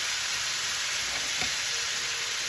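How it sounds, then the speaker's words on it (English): Chicken and vegetables stir-frying in a hot wok with the heat turned up, giving a steady, even sizzle with a faint brief stir near the middle, close and continuous with no talking. "And you can hear the sizzle."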